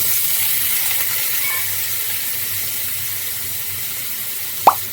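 Potatoes fry in a kadai in oil left over from frying coconut, producing a steady, even sizzling hiss throughout, with a single faint clink near the end.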